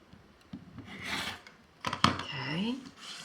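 Quilt block fabric being trimmed for a Cat's Cradle block: a few close rasping strokes of a cutter along a ruler, with a scraping clatter around the middle and a brief voice sound under the cutting.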